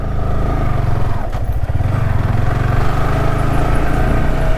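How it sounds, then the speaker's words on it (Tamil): A motorcycle engine runs steadily and loudly throughout, with a gritty, scraping clatter from sand caught in the drive chain mixed into its low rumble. "செயினில் இது மண்ணுடா மண்ணு ஓட்ட வராது போல் சரு சரு சவுண்டு கேக்குது"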